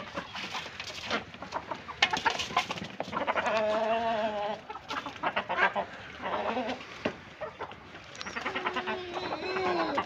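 Chickens cluck and squawk in a busy, overlapping chorus close by as they are fed grain, with a goat bleating now and then among them.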